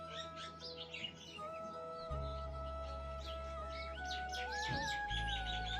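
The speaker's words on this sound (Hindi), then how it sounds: "इतनी प्यारी प्यारी चिड़ियाओं की आवाज़" Morning birdsong in a mountain village: several small birds chirp and trill steadily over a constant low hum, with clear calls scattered throughout and no voices.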